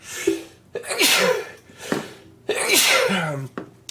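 Two loud, close sneezes in quick succession, each with a sharp intake and a forceful burst of breath, with no speech.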